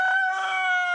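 A Kosher King broiler chicken on a farm gives one sustained, tonal call lasting about a second, close and clear, with no other sounds around it.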